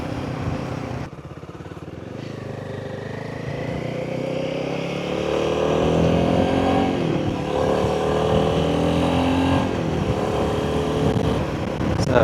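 A Royal Enfield Himalayan 450 motorcycle is ridden, its engine droning steadily with gradual rises in pitch through acceleration, heard close up under a layer of wind rush.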